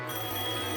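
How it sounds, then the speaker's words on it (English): A telephone rings with a steady, continuous trill at moderate loudness, filling the whole moment in a scene from the reality show Daisy of Love. "The phone was ringing off the hook."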